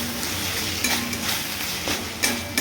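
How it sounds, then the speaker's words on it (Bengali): A spice paste for a bata fish curry sautés in a pan, giving a continuous close sizzle with intermittent scraping stir strokes and soft utensil clinks. "আর এইদিকে আমি মশলাটা কষিয়ে নিচ্ছি ভালো করে।"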